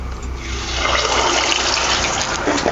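Kombdi vade dough dropped into hot oil for frying, a loud, dense, continuous bubbling hiss that swells after the first moment and stays strong and close throughout, with no talking.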